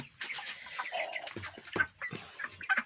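Young 36-day-old broiler chickens clucking and peeping in short irregular bursts, close and moderately loud, with no one speaking.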